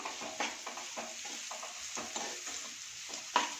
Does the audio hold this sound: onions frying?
yes